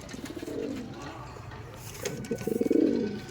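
Andhra Madrasi pigeons coo in a loft, two low rolling, throaty calls close by, the second louder and longer, with soft rustling between.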